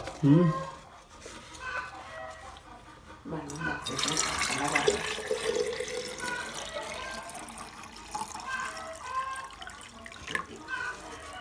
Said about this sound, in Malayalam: അതിൽ ഫുള്ളായിട്ട് വെള്ളം ഒഴിച്ചിരിക്കുന്നു.